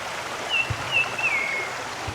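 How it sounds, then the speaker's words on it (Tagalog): Steady broadband rush of a flowing river at a campsite in Antipolo, Rizal, Philippines, moderately close, with a few thin bird chirps rising briefly above it. "Dito maganda yung tunog ng tubig."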